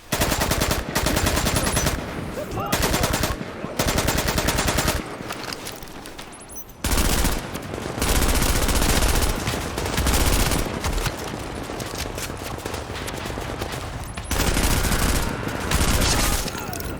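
Gunfire in Tom Clancy's The Division, long bursts of loud, rapid automatic weapon fire broken by short pauses, with sustained exchanges across the whole stretch.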